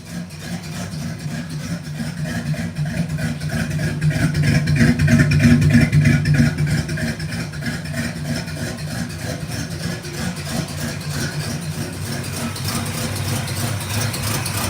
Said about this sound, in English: It's got a little exhaust leak, but I mean, it's running good.